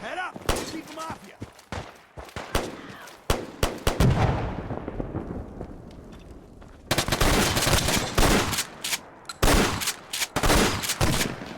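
Loud gunfire in a modded Fallout 4 firefight, sharp repeated shots and rapid bursts with a booming blast and lingering rumble mid-way, then renewed heavy volleys.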